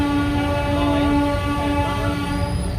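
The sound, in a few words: local train passing at a railway crossing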